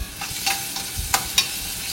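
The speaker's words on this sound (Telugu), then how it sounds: "ఇవన్నీ కాస్త వేగిన తర్వాత అల్లం వెల్లుల్లి పేస్ట్ యాడ్ చేసుకొని వేగనివ్వాలి" Ginger garlic paste frying with onions and green chillies in a pan, a steady close sizzle broken by a few sharp scraping stir strokes.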